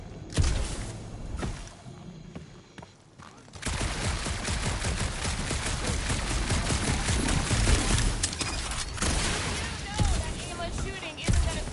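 Gunfire in Marvel's Guardians of the Galaxy game on PS5: dense, continuous bursts of shots and impacts fill most of the stretch, with a brief quieter lull early on, loud and busy over game noise.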